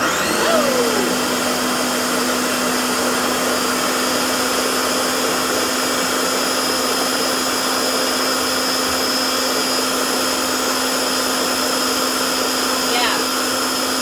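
A blender runs on high speed blending homemade hummus, a loud, steady, close whine that holds unbroken from start to finish with a constant pitch and only slight variations in tone.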